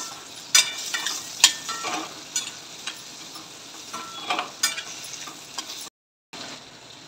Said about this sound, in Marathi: आता मोड आलेले मूग टाकून घेऊया आणि छान प्रकारे फिरवून